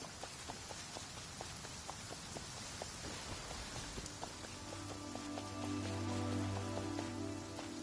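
Steady rain patters across the ground in Genshin Impact, with light rhythmic clopping steps through it and a low droning tone rising partway through, fairly faint and with no voices.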